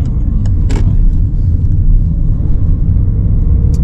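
Car engine revving up during a driving lesson, a loud, close, steady rumbling drone with brief clicks and knocks near the start, no voices.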